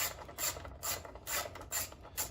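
Screws being backed out of a Powerhorse 13000ES generator with a ratcheting tool, five or six short rasping ratchet bursts in an even rhythm, close and clear with no talking.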